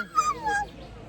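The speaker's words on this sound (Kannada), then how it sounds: "ಅಲ್ಲಿ ಎಷ್ಟೊಂದು ನಾಯಿ ಇದೆ." A short, high-pitched whimpering whine from a dog with a few rising and falling tones, close by and brief.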